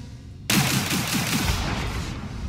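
A fixed turret on the Aegis Hammerhead corvette in the Star Citizen video game fires a sudden loud sustained burst, a rapid stream of shots that starts abruptly and runs to the end without any voices.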